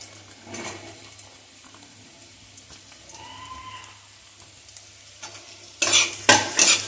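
Spring onion whites stir-fry with chopped onion in a pan, making a soft sizzle broken by scattered utensil scrapes, then louder, sharper stirring clatter and sizzle bursts near the end, with no speech.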